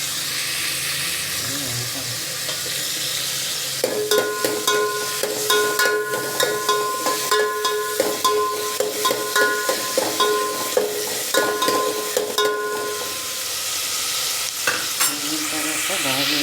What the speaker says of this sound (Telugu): ఉల్లిపాయలు పచ్చడిగా వేసిన తర్వాత బ్రౌన్ కలర్ కదా రావాలి